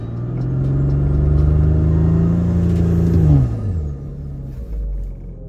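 A B9 Audi S4's engine held at a steady high-revving drone while staged for a launch, then the pitch drops away sharply as revs fall back to a lower rumble, loud and close with no talking.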